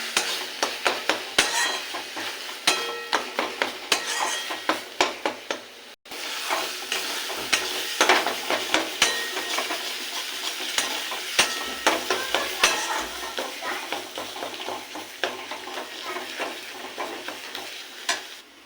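Ghetkol paste frying down to dryness in a wok, sticking to the sides as the oil separates: a continuous close sizzle punctuated by rapid, rhythmic spatula scrapes and knocks, with one brief break partway through.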